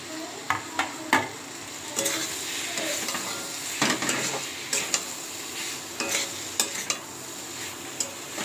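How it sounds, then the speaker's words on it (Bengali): Prawns sautéing in a pan, with steady sizzling broken by repeated sharp scrapes and stirs of a spatula at an uneven rhythm, close up and with no talk. "এবার আমি একটু চিংড়ি মাছটা ফেলে দেবো, আমাকে আবার একটু কষিয়ে নেবো।"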